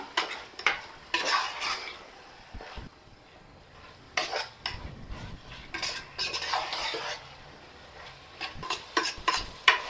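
Chicken curry for Dindigul-style seeraga samba chicken biryani stirred in a pot, with bursts of metal scraping and clattering in uneven rhythm between short quiet pauses, close and moderately loud with no talk.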